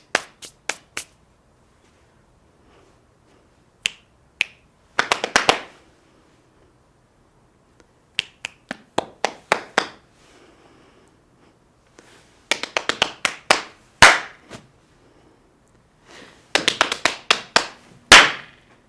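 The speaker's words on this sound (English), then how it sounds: "So we can go snap, snap, clap," Finger snaps and hand claps in a body percussion drum warmup, sharp isolated clicks and claps in short rhythmic bursts separated by silent gaps, close and dry, with softer swishing brushes between some hits.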